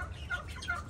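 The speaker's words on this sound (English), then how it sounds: "Supposed to be a lakeshore egger rooster and a cream leg bar rooster." Lakeshore egger and cream legbar roosters cluck in short, close bursts, a couple of rising calls standing out over a low farmyard rumble.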